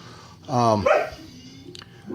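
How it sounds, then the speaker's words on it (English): Dogs bark in a yard, a short burst of loud barks followed by quieter yips and whimpers, with a person's voice speaking faintly nearby. "now the dogs decided to let us know a pine cone just fell in the yard"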